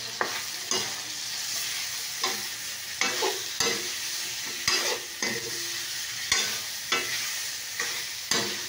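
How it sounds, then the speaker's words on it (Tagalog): Chicken adobo with garlic, bay leaves and crushed pepper sizzles in a pan while a utensil stirs it, scraping in a regular rhythm of about one stroke per half second over constant frying noise. "Tapos halu-haluin nyo lang."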